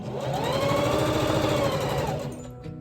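Sewing machine stitching a fabric face mask, one continuous close whirring run with a fast steady needle rhythm that winds down at the very end.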